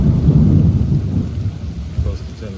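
Heavy soaking rain pours steadily in Leakey, Texas, with a deep rumble of thunder rolling beneath it, loud and close at the start and easing slightly.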